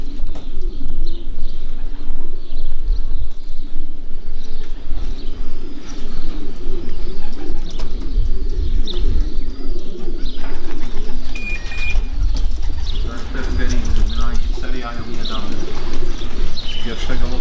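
Pigeons at a home loft after a 340 km race from Torgau, with repeated soft cooing and scattered chirps over a steady outdoor background, while people talk nearby throughout.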